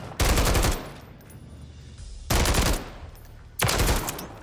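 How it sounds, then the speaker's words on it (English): Three loud, close bursts of SVA 545 rifle fire in Call of Duty MW3, each a rapid rattling volley, with a quieter gap between the first burst and the second. "they have to hit the first 2 shots because the first 2 shots fire faster"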